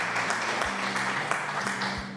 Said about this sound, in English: where's the applause sound alerts?